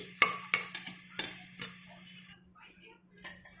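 Stirring and light sizzling as brinjal fries in a little oil for brinjal dum biryani, with several sharp scraping clicks early on, then a quieter low sizzle with a steady hum underneath.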